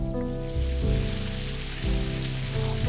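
Steady rain patters outside in the NecroBarista video game, a constant wet hiss under a looping, low-pitched musical backing.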